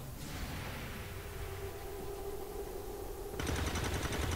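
Video-game gunfire from XCOM 2 sounds as a faint rattling burst, followed by a sharper, louder volley near the end.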